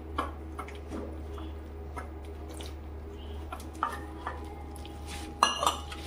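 Moong bhaji batter with cumin, coriander and salt being mixed in a bowl, with soft scrapes and light clinks of a utensil against the bowl over a low steady hum, ending in a few louder knocks.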